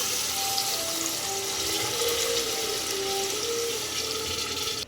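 Water pours steadily into a pan of fried ingredients while ghee rice is cooked, a continuous gushing, splashing rush that holds for several seconds, with no talking.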